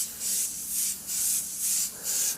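An airbrush sprays Createx Payne's Grey transparent paint straight from the bottle at 20 psi, giving a close, bright hiss in five rhythmic bursts that swell and fade with no talking.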